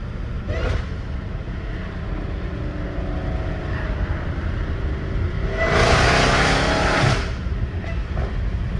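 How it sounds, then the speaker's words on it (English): A Dodge Challenger Hellcat Redeye engine runs steadily, then surges into a loud rev for about a second and a half before settling back to a rumbling idle. "I love the way American cars sound."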